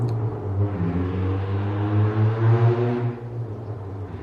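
Road traffic in a small town with sports cars, a low engine rumble that swells as a car accelerates past, then fades away, heard alone without talk.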